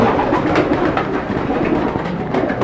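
Pigeons coo and rustle inside a pigeon coop, with overlapping close murmuring calls forming a steady, busy bed of sound.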